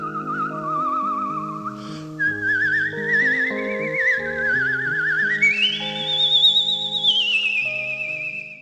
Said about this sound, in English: as Woodstock whistled this beautiful, beautiful song